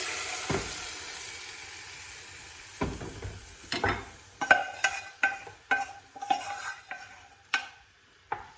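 Whole chilies, cinnamon sticks, bay leaves and a spice mixture dropped into hot oil, giving a faint steady sizzle broken by a series of sharp stirring and spoon clinks against the pan, close and fairly loud.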